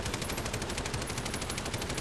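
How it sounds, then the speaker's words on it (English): Rapid automatic fire from light machine guns in Call of Duty Modern Warfare, hammering at breakable panels in a steady, fast rhythm that continues unbroken at moderate loudness. "That's why I picked two LMGs, just to, you know, sit here and shoot them real quick."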